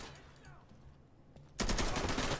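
Gunfire in the video game Insurgency: a loud, dense automatic burst breaks out suddenly and runs as continuous rapid shots to the end, after quieter ambient game noise and a faint voice.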